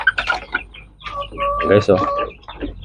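Young Kabir chickens cluck and chirp up close in short bursts, mixed with someone talking over them.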